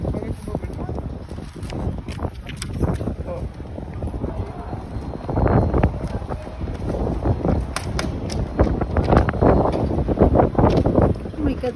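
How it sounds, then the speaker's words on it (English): Strong wind buffets a microphone outdoors during a bench meal, a steady rumbling roar throughout that swells louder after the midpoint. "It's so windy."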